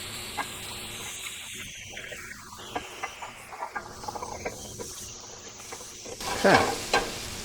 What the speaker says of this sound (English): And saute your mushrooms.